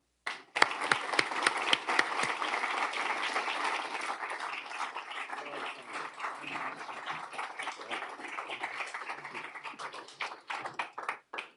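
An audience applauds to welcome Prime Minister Carney, steady crowd clapping sustained across the whole stretch, close and even, tapering into a few scattered claps at the end.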